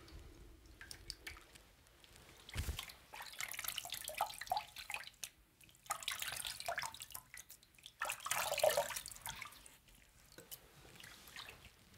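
Tap water runs to rinse a razor mid-shave, a steady splashing stream with dripping and sink washing sounds rising and falling through the whole stretch, fairly close and alone.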